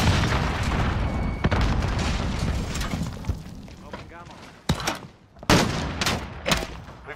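A grenade explodes in a Call of Duty-style shooter, a heavy boom among sharp bursts of gunfire and loud blasts, with a voice calling out over the chaotic mix.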